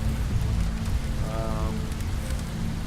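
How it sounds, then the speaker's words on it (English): Rain falls steadily in the survival video game StarsOne, a dense, even hiss of drops on surfaces that continues throughout with a faint tonal hum briefly rising in the middle. "Now they're raining on me."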